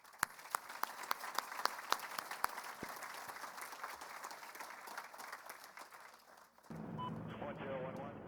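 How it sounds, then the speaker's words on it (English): Scattered, distinct hand claps from an audience at a ceremony event, sharp individual claps early that fade into a softer murmur before a change to other sound near the end. "let's give Ron a warm round of applause"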